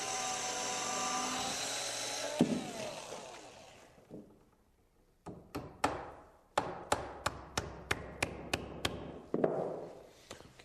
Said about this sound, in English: I'm using a nail here for a drill bit